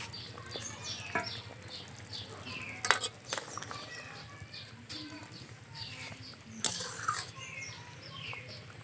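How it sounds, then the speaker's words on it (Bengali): Fish curry with large eggplant bubbling in a pot, a steady low simmering hiss broken by a few sharp clinks of a utensil against the pot. "ঝোলটা একটু ফুটে উঠেছে এখন দিয়ে দেব মাছগুলো"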